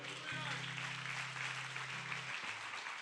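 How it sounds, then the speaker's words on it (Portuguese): A church congregation applauds in a steady, dense wash of clapping that fills the whole moment, with a sustained low musical tone, like a held keyboard chord, running beneath it. "Você pode aplaudir ao Senhor?"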